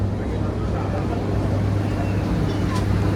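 A passenger ferry docks at Cheung Chau island. Its engine gives a steady, close, low droning rumble with broad wash and wind noise over it.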